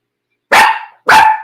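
A pet dog barks twice, close and loud, each bark sharp and separated by a short gap, with silence around them.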